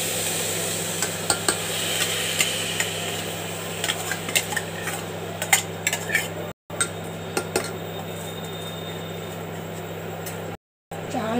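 Lentils and Gobindobhog rice tip into a cooking pot with rattling, clinking and scraping against metal over a low steady hum, close and moderately loud.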